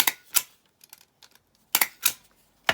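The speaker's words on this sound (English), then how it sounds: "we can just staple it across the top" Paper pad being stapled across the top edge: several sharp, loud staple clacks in two clusters, with a few faint paper rustles between, near and alone.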